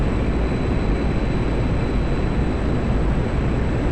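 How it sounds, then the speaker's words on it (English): MiG-21 jet engine at full throttle in the DCS flight simulator, a steady broadband roar with heavy low rumble and a thin high whine, loud and unbroken throughout with no talking. "Let's slam the throttle forwards and do some real flying"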